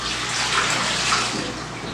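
Tap water runs steadily over potatoes being washed by hand for a shepherd's pie, a close, continuous rushing splash with no talking.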